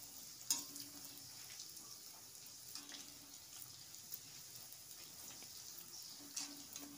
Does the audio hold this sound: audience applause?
no